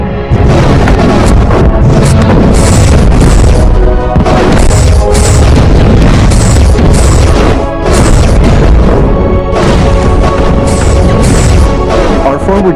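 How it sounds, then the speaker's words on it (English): Photon torpedoes and weapons fire from starships in a Bridge Commander space battle, heard as a dense, loud wall of booming impacts and bursts, with repeated blasts layered over a constant roar. "Switching to photon torpedoes, Captain."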